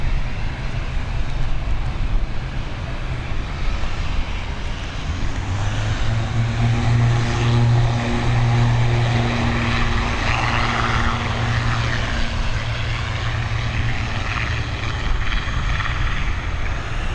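ATR 72-600 turboprop airliner at Dublin Airport, a loud, steady propeller drone with strong low tonal hum that swells in the middle, heard alone for the whole stretch.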